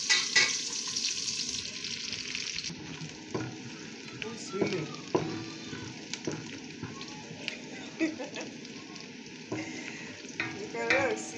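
Red onion, white onion and garlic frying together in a pan, making a continuous close sizzle broken by irregular crackles and stirring scrapes, with no talk over it.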